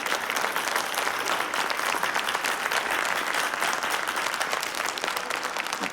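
Dense, sustained applause from a studio audience for chef Andria Borashvili's panna cotta on a television cooking show, loud and unbroken throughout without pause.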